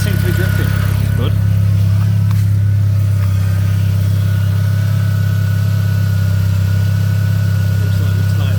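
A Mk4 Golf 1.8T engine idles steadily with a deep, constant low hum and rumble, close by and unchanging throughout, with faint rattles over it.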